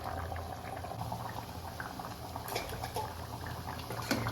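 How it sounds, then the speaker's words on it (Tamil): Quail curry bubbling in a pot at a steady boil, thickened, soft gurgles and pops close up, continuous and without speech. "நல்லா குழம்பும் கொதிக்க ஆரம்பிச்சிருச்சு"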